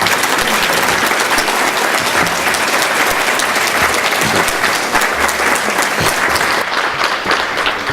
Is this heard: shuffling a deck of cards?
no